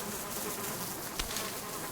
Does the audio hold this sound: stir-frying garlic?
no